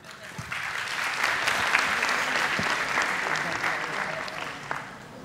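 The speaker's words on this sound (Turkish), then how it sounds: "Alkışlarla." A television talent-show studio audience in Turkey breaks into steady, full applause, with many hands clapping evenly at moderate loudness for the whole stretch and no voices heard.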